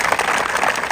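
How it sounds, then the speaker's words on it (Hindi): Applause from an audience at an Indian Army selection academy gathering, a dense steady patter of clapping filling the whole brief moment. "एक बार सभी लोग जोरदार तालियां बजा दीजिए।"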